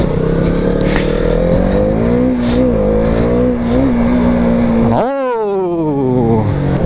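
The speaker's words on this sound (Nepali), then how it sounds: "for now I'll be riding Lukbo's Duke 200" A KTM Duke 200 motorcycle engine hums steadily at close range while riding, with rising rev sweeps and a sharp gear-change shift near the end, loud and continuous throughout.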